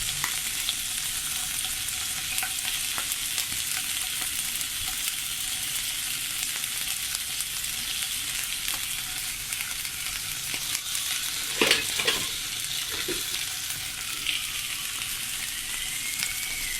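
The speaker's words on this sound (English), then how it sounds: "I've got some wild salmon here, so I'm just going to pan fry on both sides" Wild salmon pan-fries in a hot pan, giving a loud, continuous close sizzle that runs steadily throughout, with a couple of brief clinks and shuffles partway through.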